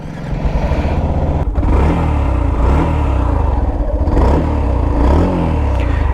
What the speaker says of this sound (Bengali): আচ্ছা চলেন বাইকটা স্টার্ট করা যাক